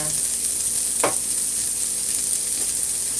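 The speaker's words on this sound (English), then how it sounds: "You want to start getting your onion nice and toasty" Onions fry and toast in a pan for an ackee and corn pork breakfast, an even, loud sizzling hiss throughout with one sharp utensil clank near the start.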